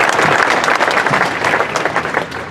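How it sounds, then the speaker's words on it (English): Warm audience applause at an outdoor community rally, fairly close and full, individual claps audible in the wash and tapering slightly toward the end. "One more round of applause for Sarah"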